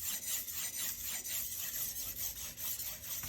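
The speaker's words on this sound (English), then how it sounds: "we break the burr, and then we start sharpening again, but we stay less time" Steel knife blade rubbed across a sharpening stone in steady back-and-forth strokes, roughly two per second, a close, continuous rasping scrape with no voices.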